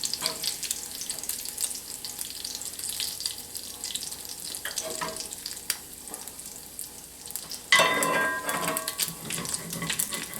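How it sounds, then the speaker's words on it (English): Sausage frying in lard in a pan on the stove gives a close, steady sizzle dotted with small pops and cracks, swelling louder for a moment near the end. "you can see that's still popping and cracking"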